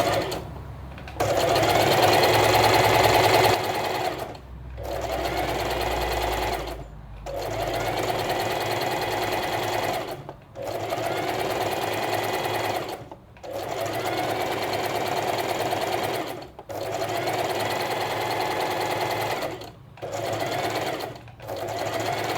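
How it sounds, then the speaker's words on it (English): Sewing machine stitching straight lines on a tie-front summer top, running loudly and steadily in long stretches broken by about seven brief stops, alone without talk. "and then I sew just straight lines, and I don't do front and back stitches"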